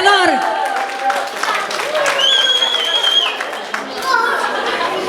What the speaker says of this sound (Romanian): Aplauze pentru ei și pentru dragostea lor!